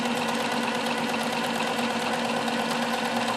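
A Bernina 610 sewing machine runs steadily, stitching a fine zigzag with a fast, even mechanical hum and rapid needle clatter that carries on without pause, close and alone.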